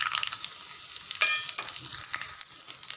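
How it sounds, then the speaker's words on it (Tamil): Chana dal, mustard seeds, urad dal, a dried red chili, cumin and garlic crackle and sizzle in about three spoons of hot oil for a chutney tempering, a close, continuous frying hiss with sharp pops and spatters throughout. "ஒரு 3 ஸ்பூன் எண்ணெய் விட்டுருக்கேன் தாளிக்கிறதுக்கு"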